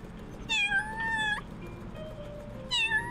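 A kitten in the game Little Kitty, Big City gives two drawn-out, plaintive meows, the first long and wavering, the second shorter after a pause, over a soft steady game-ambience hum with a faint tone between them.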